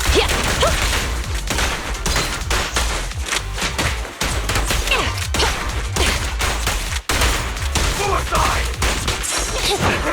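Sustained rapid gunfire in a police-themed action video game, dense continuous bursts of shots with impacts and crashes, loud and close, broken by a couple of brief gaps.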